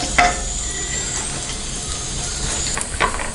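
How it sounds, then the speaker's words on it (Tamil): Mustard seeds, cinnamon, cloves, bay leaf, curry leaves and dried red chillies spluttering in hot oil for a Tamil chicken fry, a loud steady crackling hiss with a few sharp pops, close and without talk. "கடுகு நல்லா பொரிஞ்சிருச்சு"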